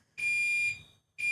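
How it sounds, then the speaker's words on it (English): Fire alarm sounding in loud, piercing electronic bursts, a long high tone followed by a short gap and the start of another blast, with nothing else heard. "I wish I could sing to the fire alarm"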